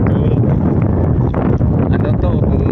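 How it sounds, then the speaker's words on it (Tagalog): Strong gusting wind at sea roars and buffets the microphone in a continuous, rumbling rush, with faint voices mixed into the noise. "Grabe ang lakas ng hangin"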